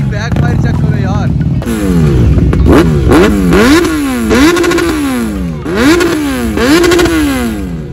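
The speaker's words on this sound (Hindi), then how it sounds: "भाई बैक फायर चेक करो यार" A Triumph Street Triple R superbike engine revs hard several times, its pitch climbing and dropping in repeated loud blips close by, with voices talking over it.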